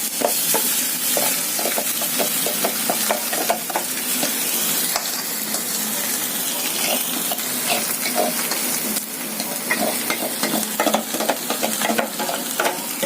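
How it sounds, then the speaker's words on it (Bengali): Masala dosa filling of mashed potato and carrot frying in a pan while being stirred, a constant close sizzle with repeated scraping strokes of the spoon. "এবার ভালো করে এটা নাড়তে হবে।"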